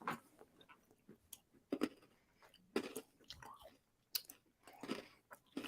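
Crunchy snack chewed close to the mic in a slow, irregular rhythm of soft crunching bites with pauses between, no talk over it.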